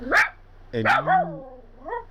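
A dog barks and yowls in a few short, whining bursts close by, sounding agitated, with a steady low hum underneath.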